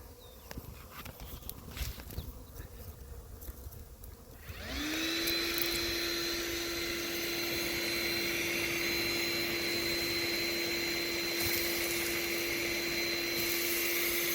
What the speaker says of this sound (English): and try to vacuum these guys up.